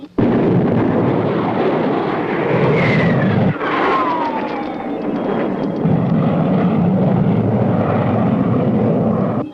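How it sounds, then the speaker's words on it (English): A loud roaring rocket-like rumble of a spaceship blasting off, with a descending whistling tone sweeping down, sustained and powerful throughout. "Stand by for blastoff."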